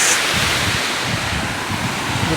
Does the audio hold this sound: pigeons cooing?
no